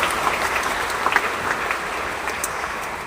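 At a concelebrated Catholic Mass with seventeen bishops at Stella Maris church in Pluit, the congregation gives a sustained round of applause, a continuous wash of many clapping hands with a few sharper claps standing out.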